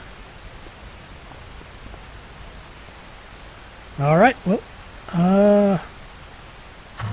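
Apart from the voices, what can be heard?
rain in the video game Farming Simulator 25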